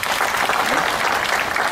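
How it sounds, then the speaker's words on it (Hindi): An audience at a ward meeting applauds steadily, dense and even clapping from a crowd in a hall, continuous throughout. "और सबकी ओर से एक बार ताली हो जाए।"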